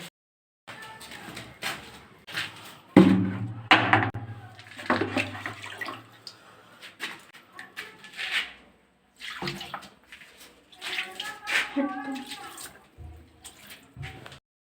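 Water poured onto a newly built brick kitchen base, heard as bursts of splashing and gushing in irregular spells, some loud and near, separated by short pauses, with someone talking in between.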